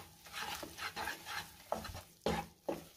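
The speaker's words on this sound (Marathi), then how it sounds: "आता हे पीठ आपण तुपामध्ये व्यवस्थित भाजून घ्यायचे" Wheat flour roasting in ghee over a low flame for sheera, stirred with soft rhythmic scraping strokes and a few sharper knocks against the pan, quiet and close with no speech.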